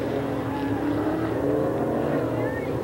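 Off-road race trucks roar around a dirt track at Crandon in 1998, a dense, loud engine drone with rising and falling whines of passing vehicles, and an announcer talking over it.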